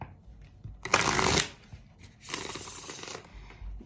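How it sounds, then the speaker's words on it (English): Tarot cards are shuffled by hand in two bursts of riffling and sliding, close and crisp, separated by a brief quiet gap. "Let me just keep shuffling and see what I see"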